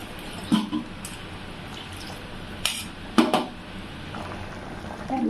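Steady bubbling of Chettinad chicken gravy on the boil in a pot, with a few sharp clinks of utensils against metal now and then.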